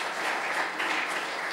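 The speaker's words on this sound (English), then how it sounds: "So I would like to give a big applause to Dragos." Applause from an audience at a talk on Lean, Kanban and DevOps, a dense steady wash of many hands clapping at moderate loudness with no voices over it.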